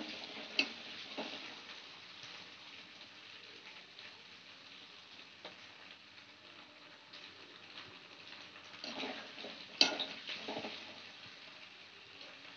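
Paneer fries in a mix of white oil and mustard oil, giving a soft continuous sizzle with occasional crackles and small pops, no voices.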